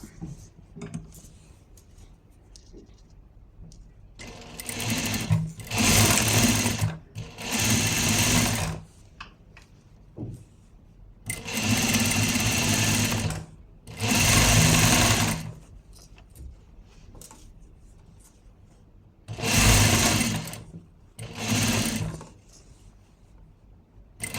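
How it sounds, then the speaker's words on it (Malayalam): A sewing machine stitches a folded fabric piece in six separate bursts of rapid, loud mechanical whirring, each lasting a second or two, with quiet handling gaps between runs and no talking. "രണ്ടായിട്ട് മടക്കിയിട്ട് ഇങ്ങനെ വെച്ചിട്ട് സ്റ്റിച്ച് ചെയ്ത് കൊടുക്കുക"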